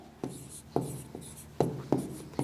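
A pen scratches across paper in several short strokes, each a crisp brisk scrape separated by small pauses, close and clear with no voices.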